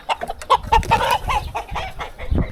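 Chickens cluck nearby on a homestead, a quick irregular series of clucks and short squawks from one or more birds, close and fairly loud with no talking.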